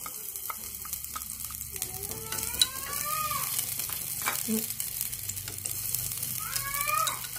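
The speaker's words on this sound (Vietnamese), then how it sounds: "bây giờ dầu của mình nó đã nóng rồi đó các bạn, mình sẽ cho vào đây một ít hành để mình khử cho nó thơm nha" Onions frying in hot oil in a pan, a steady close sizzle running under the whole stretch with occasional stirring clicks, while birds chirp faintly in the background.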